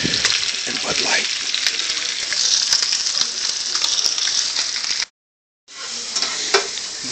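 Salmon searing and sautéing in a pan with a dense, steady crackling sizzle that runs loud and continuous, cuts out briefly to silence, then resumes with a few sharper spatters.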